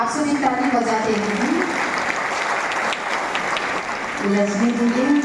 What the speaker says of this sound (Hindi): आप सभी ताली बजाते हैं।